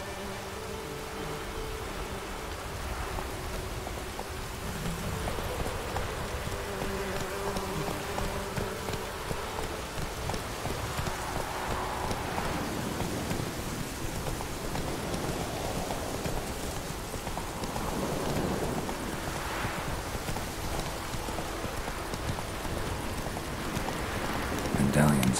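Steady rain hisses over a Witcher 3 countryside while Roach's hooves clop along, continuous and fairly even throughout, with a voice speaking at times over the downpour; no distinct thunderclap stands out.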